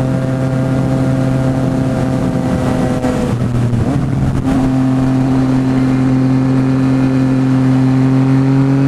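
A light Yamaha MT-09 motorcycle engine drones at a steady high pitch at speed on the RS-122 highway, briefly dipping and rising before holding its tone again.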